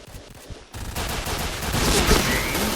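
An SS3 rifle in the shooter Point Blank fires a rapid, sustained burst, dense crackling shots building louder and continuous after a brief quieter lead-in.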